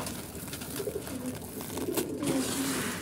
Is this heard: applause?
no